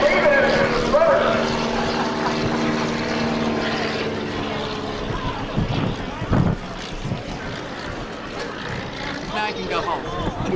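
At a 1996 air show at Zamperini Field, Torrance Airport, a propeller airplane lifts off with a droning engine that fades into the distance, wind rumbling on the microphone and people talking nearby.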